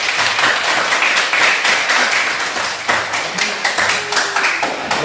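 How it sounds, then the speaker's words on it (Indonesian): A classroom of students claps together in dense, steady applause that holds at full strength for several seconds, loud and close. "Tepuk tangan dulu kan."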